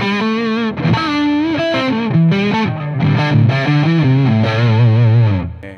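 Electric guitar played through a Macron Audio effect pedal, the Astrum, Viento or Helios, giving a loud, driven, distorted tone as a melodic phrase of sustained notes and slides rings out alone.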